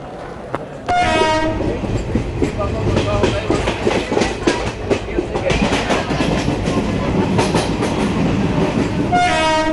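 A train at an Indian railway station on the Jalandhar–Jaipur route, loud horn blasts at the start and end framing a steady rumbling clatter of wheels and carriages rolling past, close and dominant.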